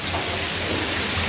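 Heavy rain pours down in a dense, loud, unbroken hiss that fills the whole moment without any other sound.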